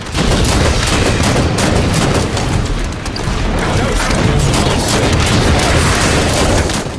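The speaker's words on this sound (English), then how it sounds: "Love this incineration cannon." The incineration cannon in the video game Halo 5 Firefight fires amid a dense, continuous barrage of loud booming blasts and gunfire, packed tightly with no pauses.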